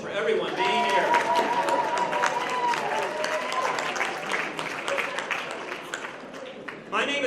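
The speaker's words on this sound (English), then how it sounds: "So let's do a round of applause just for everyone being here." A crowd at a retirement celebration applauds warmly, dense clapping with some voices and cheering mixed in, tapering slightly before a brief swell at the end.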